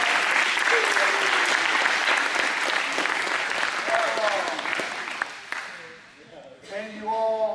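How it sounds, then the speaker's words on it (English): Loud, dense audience applause fills most of the stretch, then fades out, and a person starts speaking near the end. "Give a big round of applause."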